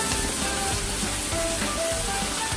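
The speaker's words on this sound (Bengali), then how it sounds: "পেঁয়াজটা ভাজা হয়ে গেছে, এবার আমরা বেটে রাখা মশলাটা দিয়ে দেব।" Ground spice paste hitting browned onions in hot oil, a steady close sizzle and fry that holds throughout with faint stirring and no voices.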